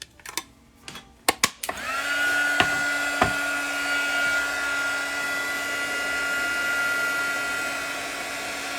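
After a few sharp knocks, a hair dryer starts up to dry paint on a page and settles into a loud, steady whirring hum that carries on to the end.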